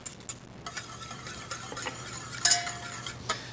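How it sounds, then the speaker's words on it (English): Shallots and citrus zest whisked in a bowl for a pomegranate dressing, light repeated clinking and scraping strokes with a sharp metallic tap near the middle, quiet and close, no voices. "I'm going to just kind of whisk a little bit"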